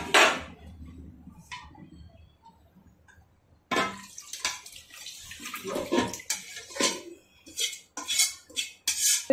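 Raw chicken pieces go into a biryani pot over layered potatoes, with close clattering of utensils and a spoon scraping metal; a brief splash early on, then a busier stretch of knocks and clinks.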